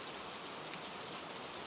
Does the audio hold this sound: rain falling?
yes